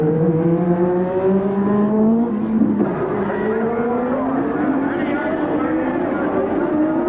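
Formula 1 racing cars, a Brabham and a Ferrari, at the 1983 Detroit street-circuit Grand Prix: loud, high-pitched engine whine rising and falling through gear changes as the cars pass close, continuous under a commentator's voice.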